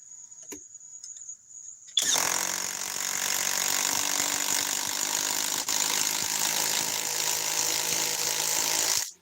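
A Kobalt 24-volt 6-inch cordless mini chainsaw starts after about two seconds of quiet and then runs steadily with a loud, even, high-pitched whine up close, cutting off abruptly at the end.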